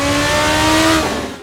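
Engine revving in the Assetto Corsa racing game, a raw, high-pitched roar with steady harmonic whine held loud for about a second before easing off, no talking over it.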